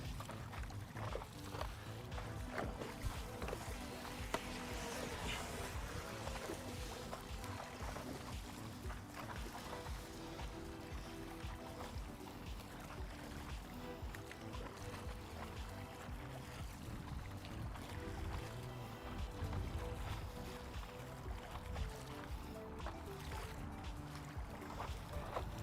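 A kayak is paddled across water: soft, continuous splashing and water movement, close but faint, with a steady wash of background noise and no talk.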